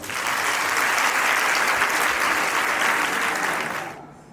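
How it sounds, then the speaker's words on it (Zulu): Audience applause welcoming a preacher at a Nazareth Baptist (Shembe) birthday celebration held at DUT in Durban; a dense, steady wash of clapping from a large crowd that carries evenly for about four seconds, then cuts off abruptly. "ngelikhulu ihlombe ngiyacela ukuthi samukele ubaba umshumayeli"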